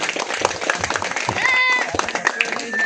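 A village crowd claps in welcome at an outdoor reception. Uneven applause mixes with chatter, a whistle-like tone and other background noise.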